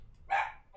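A dog gives a single short bark somewhere in the background, quiet and brief against a near-silent backdrop.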